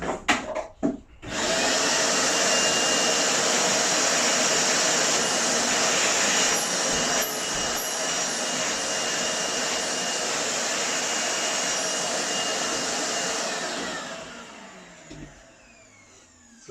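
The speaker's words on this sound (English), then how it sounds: "So I'm going to quickly hoover that up." A vacuum cleaner hoovers up dust from a chisel-sharpening setup with a loud, steady roar that starts abruptly, holds for over ten seconds with slight pitch shifts, then winds down.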